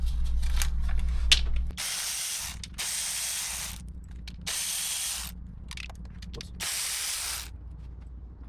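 A ratchet on a 2009 BMW 328i works loose the 10 mm intake manifold bolts. Several loud, close bursts of rapid clicking are separated by brief pauses, and no one talks.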